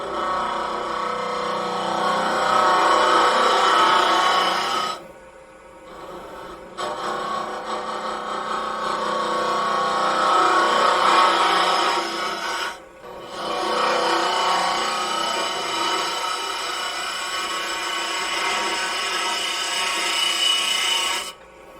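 A wooden box being hollowed on a wood lathe gives a steady, loud scraping rasp of tool on spinning wood, broken by two brief pauses before cutting resumes.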